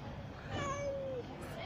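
A cat gives a short meow over a noisy outdoor background, a high rising-and-falling call that is fairly faint, with a person speaking around it.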